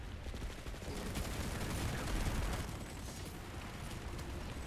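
Rapid gunfire from the online shooter Planetside 2, including sniper shots, crackles in a dense continuous barrage of battle noise, loud and steady throughout with a slight swell in the middle.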